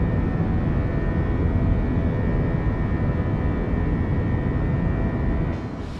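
An Airbus A321 climbs after takeoff as flaps retract, heard from the flight deck as a steady, dense roar of engine and airflow noise with a faint high whine, slightly easing just before the end; no talk.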